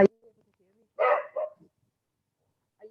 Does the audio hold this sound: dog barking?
yes